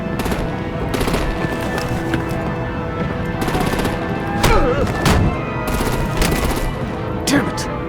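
Sustained bursts of rapid artillery and automatic gunfire from the video game Batman: The Enemy Within, loud and continuous with sharper cracks standing out, under a dense layer of in-game battle noise.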